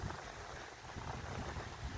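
Strong, piercing December wind by the water in Dnipro buffets steadily and loudly, a dense roaring rush with gusty swells and no voices.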